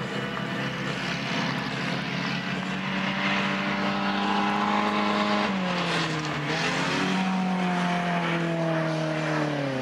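Race cars roar past in a continuous loud pack on an oval track under green-flag racing at a main event, engine notes rising and falling in pitch as they pass, with no talk.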